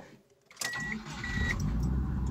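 A 2004 Subaru WRX wagon with a dead battery is jump-started from a cheap Balight 1200A mini jump pack. The engine cranks briefly and then catches into a steady, close idle.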